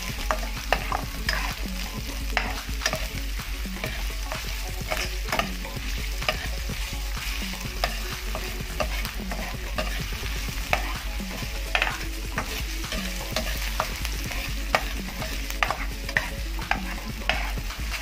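Onions sizzle in a pan for squid adobo while a utensil stirs them, with a steady frying hiss broken by regular scraping strokes throughout, moderately quiet and close.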